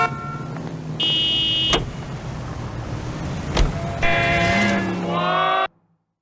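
A car drives in the video game L.A. Noire: a steady engine hum with whining tonal layers that shift and swell, ending abruptly in silence.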